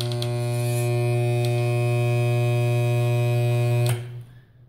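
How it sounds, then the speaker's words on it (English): A spot welder joining two metal pieces gives a loud, steady electrical hum with strong harmonics lasting about four seconds, then cuts off abruptly into near silence. "Today we're gonna do spot welding."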